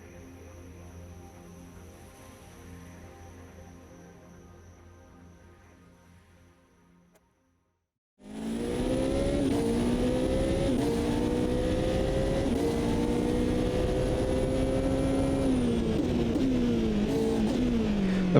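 Ferrari 488 GTE race car engine in the racing game Automobilista 2; a quieter idling drone and a second of silence, then a loud, steady high-revving roar with rising gear pulls and short dips at shifts.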